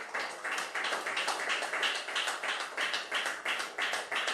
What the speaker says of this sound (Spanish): Démosle una ofrenda de aplausos al Señor.